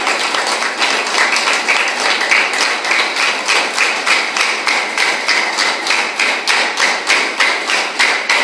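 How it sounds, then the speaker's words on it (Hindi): Rhythmic, steady clapping from an audience at an outdoor yoga camp, loud and close, a continuous even beat with no talking over it. "आप तालियां बजाकर हौसलों को हवा देते रहिए"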